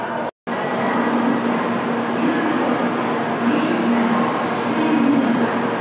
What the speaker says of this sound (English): It is a bullet train too.